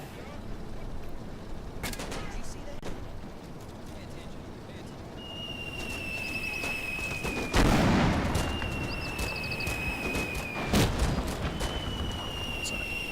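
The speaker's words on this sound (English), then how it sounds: "And you can sort of see there as well the mortar fire coming in." Heavy mortar fire in the Combat Mission Battle for Normandy game lands as scattered sharp blasts and deep thuds at a distance, with whistling tones between impacts and someone talking over it.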